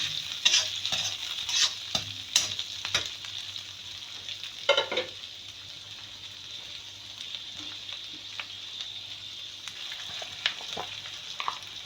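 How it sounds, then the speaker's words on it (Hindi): Onion and capsicum stir-frying in a pan for a minute, with a steady close sizzle and repeated scraping and clacking strokes of a spoon, and a few louder stirring bursts early on. "और प्याज। हल्की से हमने इसको 1 मिनट के लिए पकानी है"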